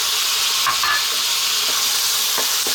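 Garlic and tomato fry in a pan for an Ethiopian gomen pasta, giving a loud, steady sizzle with a few soft stirring scrapes and no talking.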